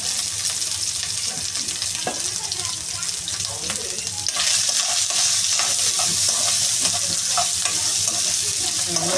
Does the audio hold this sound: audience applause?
no